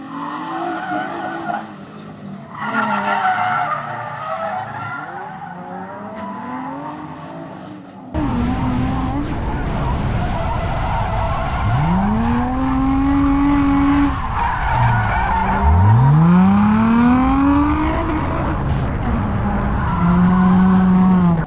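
Nissan G35 drifting on a race track: engine revving hard with long rising and falling tire squeals, loud and close, sliding past in repeated skids.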